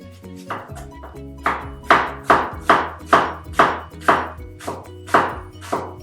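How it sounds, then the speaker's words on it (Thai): A knife chops pork fat on a cutting board in a steady run of about a dozen sharp, close knocks. "หั่นตามถนัดเลยนะคะ ไม่ฟิกว่าจะต้องหั่นทางขวางทางยาวนะคะ"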